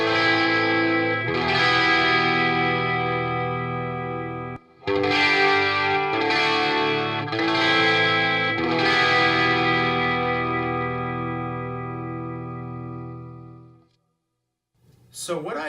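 Guitar chords strummed and left to ring, recorded without a Cloudlifter mic preamp booster: about five full, sustained chords with clear attacks and long decays, heard close and alone, ending in a brief pause and a small noise.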